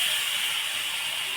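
Goat meat dropped into fried spice paste in a pan, giving a loud, steady sizzling hiss that stays even and close throughout, with no talk.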